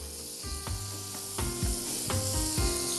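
Garlic sizzles steadily in a pan for an Algerian jtitha dish, a continuous bright frying hiss with soft stirring scrapes and clinks recurring every half second or so, close and alone with no talking.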